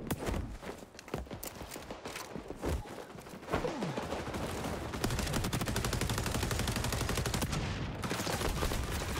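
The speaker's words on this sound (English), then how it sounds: "I was in my own gunfight." Gunfire in the first-person shooter XDefiant: scattered single shots at first, then sustained rapid automatic fire with overlapping bursts, moderately loud and continuous through the latter part.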